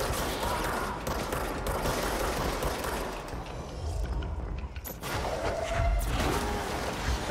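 Rapid gunfire from the video game Control, aimed at a fallen enemy, crackles in dense repeated bursts through a busy, continuous mix of game sound, with a brief dip in intensity midway before the shooting picks back up.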